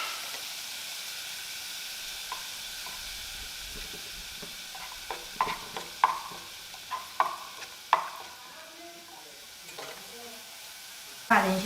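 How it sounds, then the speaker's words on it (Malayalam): Quinoa fried rice with egg whites stirred in a hot pan: a steady hiss of frying with a run of scraping taps and clicks from the spatula, strongest midway. "അപ്പോൾ അത് ഒഴിച്ചിട്ട് നമ്മൾ ഇതെല്ലാം കൂടി ഒന്ന് മിക്സ് ചെയ്തെടുക്കാം"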